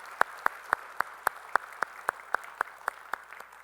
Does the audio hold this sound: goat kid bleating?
no